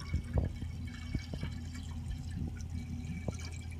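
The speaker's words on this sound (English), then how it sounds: "So now we're gonna put the cold water in." Cold water pours steadily into a container while brewing a one-gallon batch of cider, a continuous close liquid rush with a few small splashes and drips, heard alone.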